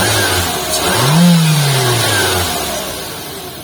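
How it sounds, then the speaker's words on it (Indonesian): A 2022 Mitsubishi Xpander with a CVT accelerates, its engine note rising smoothly in pitch, swelling to a peak and then easing off into a steady hum, fairly close and with no one speaking. "Kalau kita gas, akselerasinya pun halus"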